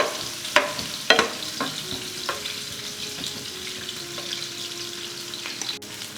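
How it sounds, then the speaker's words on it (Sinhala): Mustard seeds frying in hot oil for a Sri Lankan lentil curry, a steady sizzle broken by sharp pops and crackles, several loud near bursts in the first seconds, with a faint tone in the background. "මේ පොඩ්ඩක් බැදිගෙනකොට මම මගේ මස්ටර්ඩ් සීඩ් ටික මේකට දා ගන්න බෙද ගන්න"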